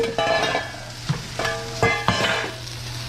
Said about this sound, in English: the process of coating a hot wok with oil